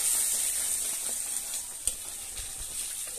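Hot spiced curry sizzles loudly and steadily in a pan after water is added. A single sharp clink sounds midway, with a couple of soft knocks after it.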